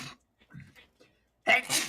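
A single sharp sneeze bursts out near the end, preceded by quiet murmured voices and short breathy sounds in an indoor family setting.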